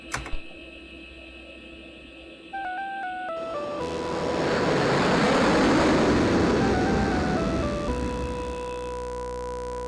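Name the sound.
video game music via Sound Blaster card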